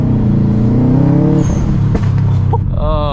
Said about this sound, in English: Like that signature HKS blow off valve noise.